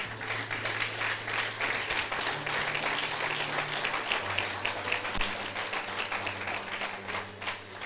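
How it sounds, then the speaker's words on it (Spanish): A church congregation applauds the Lord in a steady, moderately loud wash of clapping, with a low sustained organ or keyboard tone underneath throughout. "dale un fuerte aplauso al Señor"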